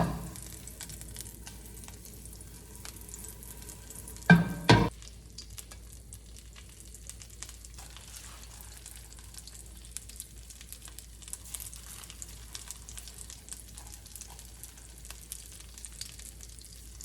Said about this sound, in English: And take it out and put it in the heated pan.